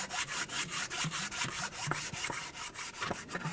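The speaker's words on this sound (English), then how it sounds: "We need to sand down the mating surface of the engine where the brand new manifold gasket's going to sit." Hand sanding of an aluminum engine head's exhaust manifold mating surface with sandpaper on a block, on a 2004-2015 Nissan, gives a rhythmic series of close, rasping back-and-forth strokes at an even pace, with no talking.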